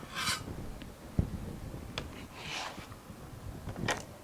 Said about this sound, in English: And I have a bench scraper.